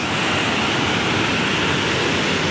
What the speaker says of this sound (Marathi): हे पहा, किती जोर जोराने पाणी खाली जात आहे